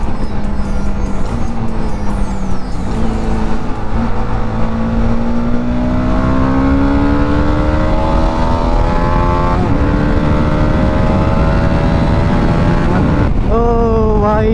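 Engine noise fills the air while racing a Maruti WagonR on an open road, a loud, continuous, rising whine under acceleration mixed with steady wind rush.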